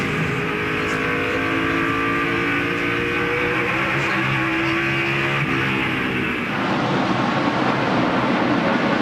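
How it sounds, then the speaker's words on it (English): Stock cars roar around the track at the 2002 Food City 500 race, a loud, continuous engine drone with shifting pitch as cars pass, then a broader rushing noise near the end. "Kurt Busch's car still looks really nice. He comes up off the corner"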